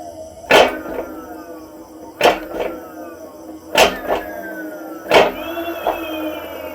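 Electric hub motor on a bench test with a Fardriver 72530 controller and a faulty hall sensor, spun up under throttle in four short bursts, each a sharp clunk followed by a rising whine that fades, close by.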